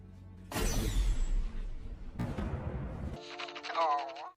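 Gunshots from a Kingsman film scene, a sharp loud blast followed by a second shot with echoing decay, then a voice speaks briefly at the end.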